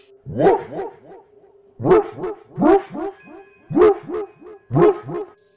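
A voice imitates a dog barking, five loud bursts of rough woofs in a steady rhythm with short pauses between.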